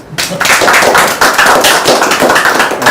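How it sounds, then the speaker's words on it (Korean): An audience at a lecture bursts into applause after a brief pause, a loud, dense patter of many hands with crisp individual claps, sustained and close. "박수 쳐야 되는 거 아니야?"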